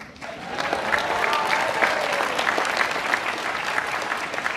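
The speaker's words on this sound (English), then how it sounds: "maybe if you could just applaud" A large audience breaks into dense, sustained applause that swells quickly and holds steady, with a few voices and cheers mixed into the crowd at a tech industry address by the NVIDIA chief.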